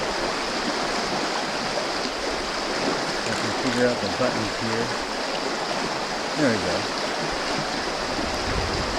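A stream of moving, tumbling water rushes in a steady, even roar close by, while a person talks briefly over it.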